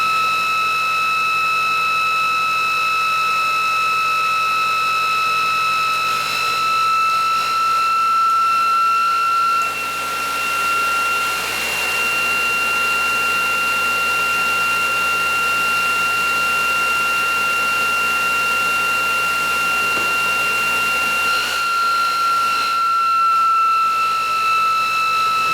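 A ReGenX generator motor spins steadily at no load, giving a constant machine whine with sustained tonal lines and a low hum that hold almost unchanged throughout.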